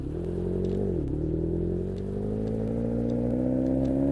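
A fast car driving in the Roblox game Brookhaven, its engine a steady, loud droning hum that dips briefly and then climbs slowly in pitch as it speeds along, with no one talking.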